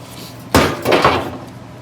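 Tin snips cut sheet metal for a new floor pan on an abandoned, damaged 1970 Challenger under repair, giving two sharp metallic snips close by, about a third of a second apart, over quiet shop background.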